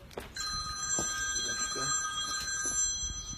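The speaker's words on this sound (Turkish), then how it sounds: "adalet cep telefonu çalıyor" A mobile phone rings with a steady electronic trill, sustained tones repeating over faint background voices and room noise.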